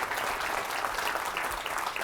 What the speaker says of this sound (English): if we can all give Glenn and the tech team a massive round of applause, that would be awesome.